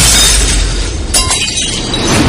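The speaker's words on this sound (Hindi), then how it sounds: "गाड़ी के पीछे का शीशा फोड़ते हुए उन्हीं की एक बोतल आई" A bottle smashes through a car's rear window, a loud sharp burst of shattering glass with the crash standing alone, not masked by any voice.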